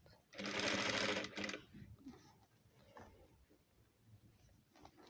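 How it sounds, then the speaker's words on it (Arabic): A sewing machine runs a quick burst of stitching on a velvet house dress with a round yoke, a fast rattling whir for about a second, followed by quieter handling noises and a soft voice. "هنزل خياطة كده من تحت"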